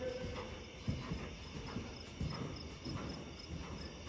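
Horse hooves canter in a working canter during a dressage test, a soft three-beat clip-clop repeating steadily at moderate distance over faint arena ambience.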